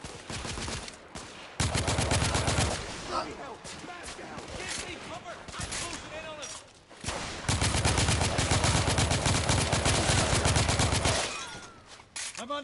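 Video game gunfire in The Order: 1886, heavy bursts of rapid automatic shots in loud, dense volleys separated by brief lulls filled with smaller cracks and clatter, with a voice speaking briefly between bursts.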